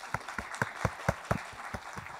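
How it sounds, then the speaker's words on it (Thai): A small audience at an e-business seminar in Thailand claps with a sparse, fairly regular rhythm. The individual claps are distinct and moderately close, with no talking. "ขออนุญาตปรบมือให้กับคุณปอยด้วยค่ะ"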